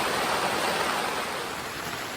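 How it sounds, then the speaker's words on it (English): Steady rain pattering on the taut fabric roof of an SUV tent overhead, a dense even hiss close by with no voices. "I'm really enjoying the sound of listening to the rain on the roof of the tent"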